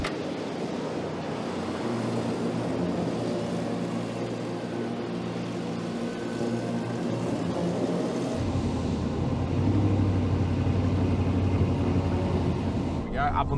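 A 4WD drives in low range as its winch hauls it out of a bog on a Tasmanian track, a steady low engine drone with a deeper load shift partway through, and people talk over it.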